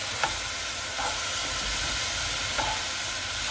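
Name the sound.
vegetables steaming and cooking in omelette pan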